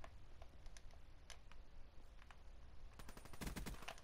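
Rapid bursts of gunfire from a weevil gun in a shooter video game: a few scattered shots early on, then a dense, fast volley near the end, heard fairly faintly.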